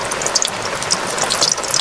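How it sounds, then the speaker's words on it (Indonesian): Eggplant fries in hot oil over a camp fire in a Kalimantan forest, giving a continuous close hissing sizzle with scattered sharp crackles and pops and no talking. "minyaknya sudah panas. Dan kita goreng dulu terong"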